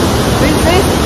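A powerful torrent of water roars in Norway, a dense, loud, continuous rush heard up close with some wind buffeting the microphone.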